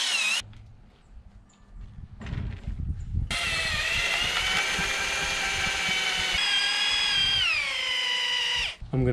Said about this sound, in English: I'm going to use a 11/16 spade bit to drill a hole through the horizontal post